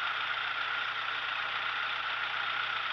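A 1974 Dodge engine under restoration idles with a slight shudder, giving a steady, continuous mechanical hum with an even drone and no talking over it.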